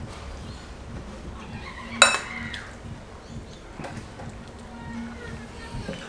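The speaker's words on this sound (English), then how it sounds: "I'm eating some cereals" A spoon gives a single sharp clink against a cereal bowl, with a few fainter taps of eating in a quiet room.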